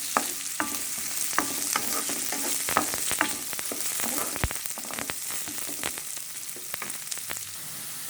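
Onion, mixed vegetables, pumpkin seeds and crushed cashew nuts for biryani goreng sizzle steadily in a hot wok while a utensil scrapes and clacks through them in irregular strokes, close and continuous.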